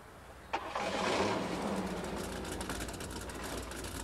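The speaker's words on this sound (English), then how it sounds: "have him start the truck" A truck engine cranks over with a sharp click and catches, settling quickly into a steady mid-pitched idle that holds for several seconds at moderate distance.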